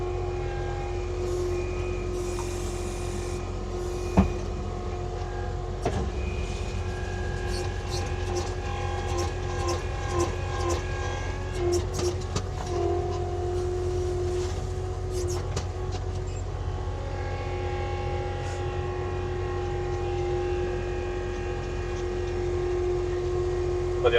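An Avant compact loader drives over hard, compacted gravel on a construction site, a steady low engine drone with constant rumble and scattered rattles and crunches, close and continuous throughout.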